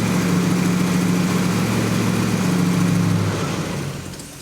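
A freshly rebuilt car engine idles high through camshaft break-in, a steady, loud, even drone that holds for several seconds and then eases slightly in level at the end.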